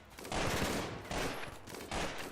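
Machine gun fire from the colony game RimWorld, three dense bursts of rapid crackling shots, loud and close, each lasting under a second with short gaps between.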